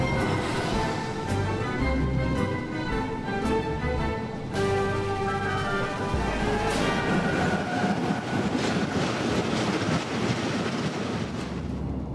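Train on the Iseo railway line from Brescia in Lombardy, Italy, rumbling steadily with rhythmic wheel clatter and occasional squeal, loud and close for the whole stretch with no talk.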